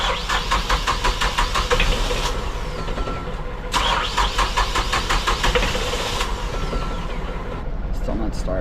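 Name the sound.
boat engine failing to start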